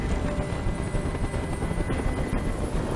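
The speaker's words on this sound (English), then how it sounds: "Tell that helicopter to get out of here." Helicopter hovering overhead in the video game Detroit: Become Human, a loud, steady rotor drone with continuous chopping that holds evenly throughout with no voices.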